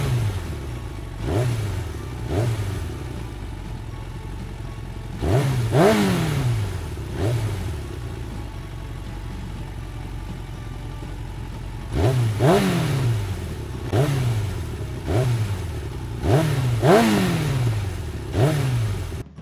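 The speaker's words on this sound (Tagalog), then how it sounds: "Tunog ng tricycle sa miyembro ng pamilya ikalawa." A tricycle's small engine revs again and again, each rise and fall of its pitch coming close together in short surges, with a low idle rumble running between them.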